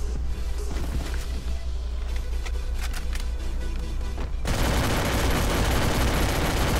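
Rapid gunfire in Free Fire aimed at a giant coconut, sharp repeated shots in quick bursts over game background noise, then a sudden loud crashing burst as the barrage intensifies near the end.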